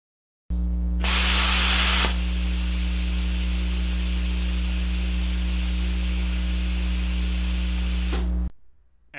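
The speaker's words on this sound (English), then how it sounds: "After you release the trigger, the air will continue to blow for a few seconds." A HeroCut 45X plasma cutter torch blows air after the trigger is released. A loud rush of air starts and then settles into a steady hiss over a constant low hum, then cuts off abruptly near the end.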